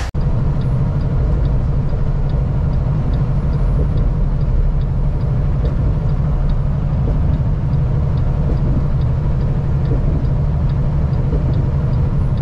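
A big diesel truck cruises along a highway with a steady, loud low rumble and road drone. A faint regular ticking runs underneath, and no one speaks.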